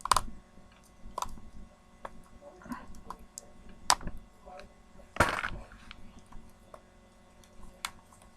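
Plastic wrap being pulled off a Shopkins toy package: scattered crinkles and small clicks near the mic, with one louder rustling burst midway, all fairly quiet.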